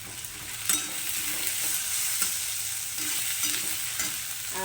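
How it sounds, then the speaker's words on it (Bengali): Onions, garlic and chopped green chillies fry in a pan with a steady close sizzle that runs throughout, broken by occasional scraping stirs of a spatula, with no talking. "এবার পেঁয়াজটাকে একটু লাল লাল করে ভেজে নেব"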